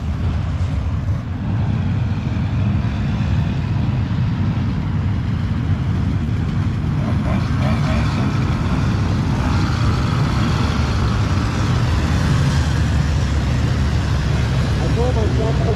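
Vintage snowmobiles ride past one after another, their engines a steady, loud, close roar that holds for the whole stretch, with voices mixed in.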